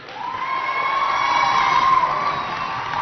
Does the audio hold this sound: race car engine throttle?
no